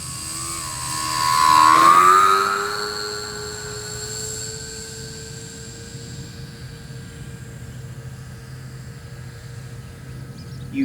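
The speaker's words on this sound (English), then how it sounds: "use some power bringing this airplane in for landing" Dynam E-2C Hawkeye RC model airplane flying overhead, its electric motor whine swelling as it passes close, then steadying into a fainter, continuous drone as it moves away.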